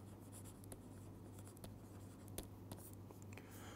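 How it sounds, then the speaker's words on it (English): Chalk or marker writing on a board during a quantum mechanics lecture, faint scratchy strokes and light taps in an irregular rhythm over a quiet room hum. "So let us write them down"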